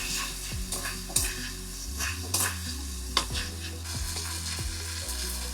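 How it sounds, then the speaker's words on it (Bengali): Chopped onion, ground spice paste, salt, turmeric, cumin and coriander powder and potato pieces frying in a pan for a catla fish curry, a close, steady sizzle broken by periodic spatula scrapes and light knocks. "ভাজা হলে বাটা মশলা নুন হলুদ জিরের গুঁড়ো ধনে গুঁড়ো আর টুকরো আলু দিয়ে কষো"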